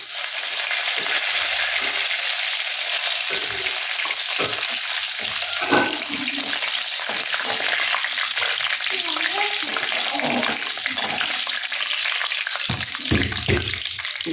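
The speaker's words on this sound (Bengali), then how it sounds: "একটু কারি পাতা দিয়ে দিচ্ছি।" Curry leaves sizzling in hot oil in a pan, a continuous loud crackling hiss throughout, with someone talking over it.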